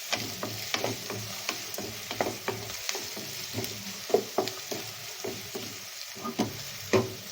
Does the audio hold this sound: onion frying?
yes